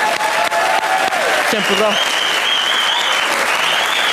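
Studio audience applause, loud and continuous throughout, with someone speaking briefly over the clapping.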